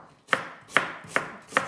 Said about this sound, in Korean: 그래서 얇게 채 썰어 줍니다